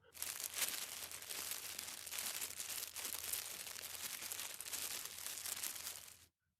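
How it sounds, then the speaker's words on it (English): Dense crinkling rustle, steady and close, runs without a break for about six seconds as a story sound effect, like something shifting and moving near a bed in a dark room. "The rustling got more prominent."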